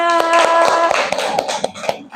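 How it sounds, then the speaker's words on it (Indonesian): A classroom of elementary school children clapping together, a quick run of sharp claps with a steady tone and voices sounding underneath. "Tepuk tangan dulu semuanya."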